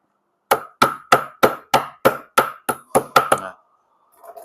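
Bearing hammered back onto the spindle of a 7-inch DCA angle grinder: about ten sharp metallic strikes in a steady, quickening rhythm, loud and close, then a faint tail.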